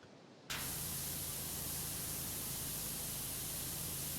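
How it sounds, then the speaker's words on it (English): Soap nozzle of a pressure washer spraying in PowerWash Simulator, a steady loud hissing jet that starts abruptly after a brief quiet moment and holds evenly throughout. "I just expected the soap nozzle to be a little more powerful than that."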